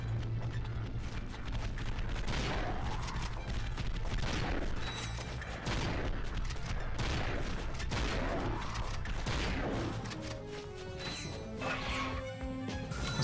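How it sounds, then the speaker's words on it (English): Rapid bursts of blitz gun fire in Ratchet and Clank: Going Commando HD, heavy repeated crashing blasts at irregular intervals over a continuous game soundscape. "Let's use our blitz gun here."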